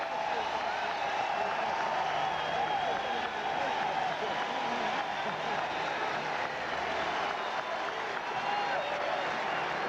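Atlanta Braves baseball crowd in a stadium gives a sustained standing ovation to Sammy Sosa during an NLDS playoff game against the Chicago Cubs, steady loud applause and cheering filling the whole stretch with faint speech mixed in.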